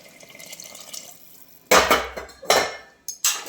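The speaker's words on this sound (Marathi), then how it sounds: "गरम पाणी टाकूया." Hot water poured into a cooking pot of soybean chunks and rice, coming as several short splashing bursts with clinks of the pot, loud and close, after a quiet start.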